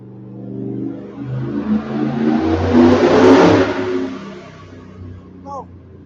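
A car engine on a dyno test pull climbs in revs, swelling to a loud peak and then easing off, with a roaring, rising drone close by.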